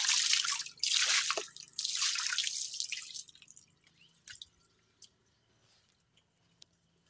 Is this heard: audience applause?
no